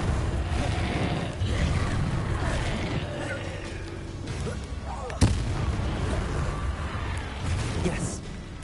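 The Incendio fire spell is cast in Hogwarts Legacy, a sharp burst cutting through busy, clattering game effects, with a voice talking over them.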